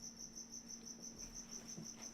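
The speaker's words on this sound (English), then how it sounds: "We have crickets in the house." Crickets chirping indoors in a house, a faint, even train of rapid pulsing chirps repeating without pause, with no voices.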